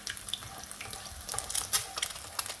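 An egg fries in bubbling oil for Thai pad kaprao gai, a close, crackling sizzle with irregular pops and spatters, no voices over it.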